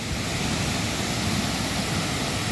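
Powerful roar of Wachirathan Waterfall in Chiang Mai, Thailand, a dense, unbroken rush of heavy falling water heard up close and loud throughout, with spray in the air.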